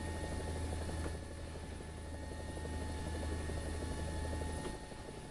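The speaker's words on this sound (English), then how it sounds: "I knew the French choppers were going to be good at something" A French Gazelle helicopter in the War Thunder video game drones steadily with a constant rotor and turbine hum, with a couple of faint clicks over the top and no speech.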